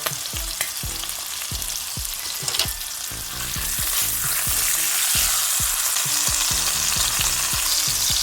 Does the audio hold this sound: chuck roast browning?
yes